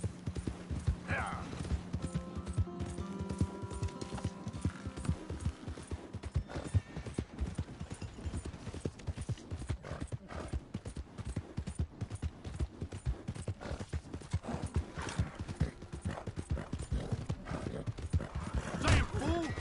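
Horse hooves clip-clopping at a steady gallop in the open-world western game Red Dead Redemption 2, a dense continuous rhythm with occasional whinnies over game music, with a voice urging the horse on.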